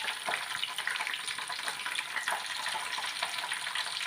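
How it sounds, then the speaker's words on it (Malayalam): Curry leaves fry in hot oil in a pan, giving a dense, even sizzle that stays steady and close throughout with no voices. "അടുപ്പിക്കകത്ത് തന്നെ വെച്ചങ്ങ് വറുത്താൽ മതി"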